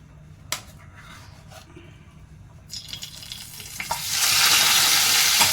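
Potato masala dropped into hot oil in a saucepan bursts into a loud, steady sizzle and frying hiss after a few quiet clinks, holding strong to the end.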